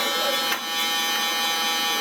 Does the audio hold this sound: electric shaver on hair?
yes